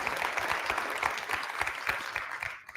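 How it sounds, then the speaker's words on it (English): Audience applause at a TEDx talk, a sustained wash of many hands clapping at an even, moderate loudness, fading slightly at the very end. "Pause for applause. Please clap."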